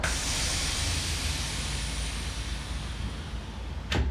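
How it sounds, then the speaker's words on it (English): A plastic pump-up pressure sprayer bottle for auto detailing lets out its pressure in a steady, close, loud hiss that runs for about four seconds and ends with a short louder burst. "And to release the rest of the pressure"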